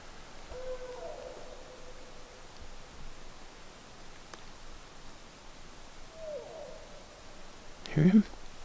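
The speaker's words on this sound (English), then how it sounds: "He's communicating with the other owl across the way." A hoot owl calls twice at night in the woods, two soft, distant hoots several seconds apart over quiet background hiss, answering another owl, followed by a brief close rustle at the end.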